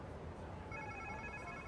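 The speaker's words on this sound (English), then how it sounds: "Sounds like somebody's phone." A phone rings in the video game Marvel's Spider-Man 2, a thin electronic ringing tone that starts midway and sits faintly over dense background game noise.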